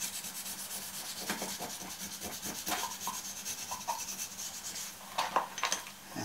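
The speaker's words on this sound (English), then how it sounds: "giving it a good rub with some Scotch-Brite" Scotch-Brite pad rubbed against a greasy metal toolholder, a close scratchy scrubbing in irregular strokes, alone with no talk.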